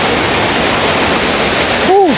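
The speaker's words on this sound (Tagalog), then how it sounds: "At ayun na yung falls" Aliw Falls waterfall pours as a dense, continuous rushing roar close by, with a short whistle-like chirp near the end.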